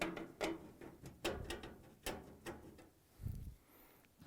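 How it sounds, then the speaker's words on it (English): Three Phillips screws backed out of the main control board of a Samsung dryer, producing a series of quiet, close, irregular clicking and scraping bursts, each a short ratchety turn, followed by a softer pause. "Now we can take the three Phillips screws out and free the main control board."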